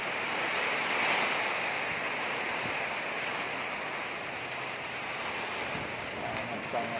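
Strong storm wind in Tatau blows as a steady, broad roar with gusts and some rain hiss, fairly loud and continuous, with faint rattles near the end.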